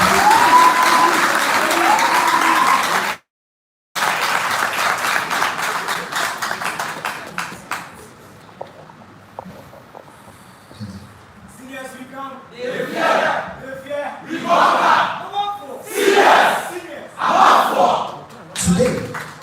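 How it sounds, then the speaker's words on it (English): At a school debate contest, the crowd bursts into loud applause and cheering, which cuts out briefly and then gives way to quieter scattered clapping. Rising shouts and cheers follow, with voices mixed in. "show them some love with a round of applause"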